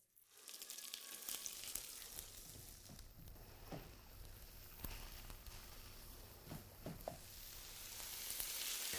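Grated potato mixture fries in melted clarified butter in a pan for Swiss rösti, giving a steady crackling sizzle with scattered pops and soft scraping taps, growing slightly louder toward the end.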